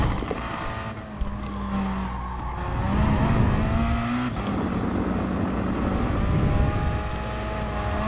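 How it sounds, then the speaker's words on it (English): A heavily damaged race car in Gran Turismo Sport, after hitting the wall in a night GT race by the sea, limps toward the pit with a strained engine drone, tire squeal and scraping, loud and continuous. "And the car is pretty heavily damaged."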